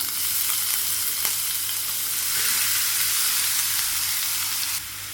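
Grated green papaya hits hot coconut oil with popped mustard seeds, giving a loud, continuous, close-up hiss of frying that holds steady for several seconds before easing slightly at the end.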